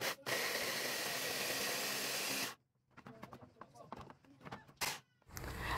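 An electric spice grinder, over three years old, blitzes labuyo chili peppers in a loud, steady whir for about two and a half seconds, then cuts off, followed by brief rattling bursts and a second short pulse.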